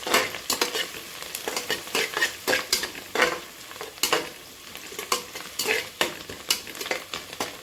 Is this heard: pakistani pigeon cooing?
no